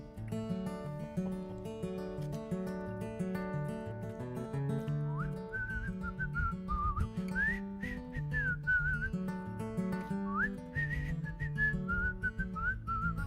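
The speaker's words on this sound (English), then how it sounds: "So I'm going to whistle in the beginning of this, but make the best whistle." A person whistles a clear song melody over steady instrumental accompaniment in a live radio-show performance, the tune sliding and wavering through continuous phrases.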